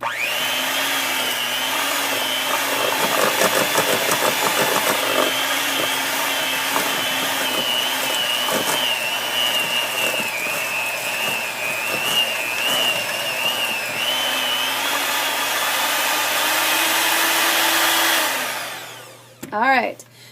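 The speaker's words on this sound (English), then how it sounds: "you're going to start to hear the mixer struggling a little bit" An electric hand mixer strains through thick chocolate chip cookie dough, giving a loud, continuous whine whose pitch sags and recovers as it labours, then cuts off near the end.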